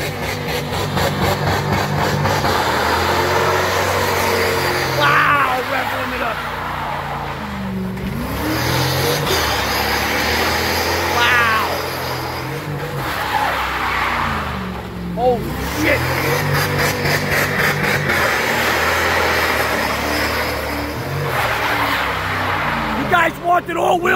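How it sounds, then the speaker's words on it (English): A V8 all-wheel-drive Jeep Cherokee makes repeated neutral-drop hole-shot launches, loud revving bursts and roaring accelerations close by, with excited shouting and talk running over the engine. "Wanted all-wheel drive hole shots."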